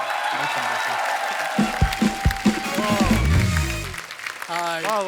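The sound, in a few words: studio audience applause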